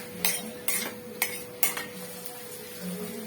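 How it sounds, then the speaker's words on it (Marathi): A spoon stirs ground garlic, chili and peanuts into hot oil in a pan for Kolhapur-style Shiroli chutney, making several sharp metallic clanks and scrapes close by over a soft background hum, with no talking. "लसूण मिरची आणि शेंगदाणे ते मिक्स करून घेऊया"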